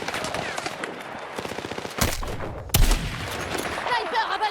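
Rapid automatic gunfire rattles in Battlefield 6, bursts of shots with a heavier blast midway, mixed with game voice lines and battlefield noise.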